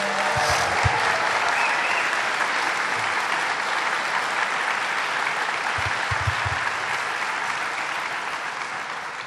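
A large crowd applauds steadily and loudly at a governor's announcement event in Hudson, New York, clapping continuously throughout with no break, fading slightly toward the end.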